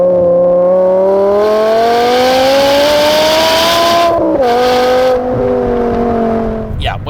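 A 2006 BMW M5 with its V10 engine pulls hard at full throttle, a loud, close, rising howl that climbs steadily through the revs, with a brief shift dip partway before it pulls on again.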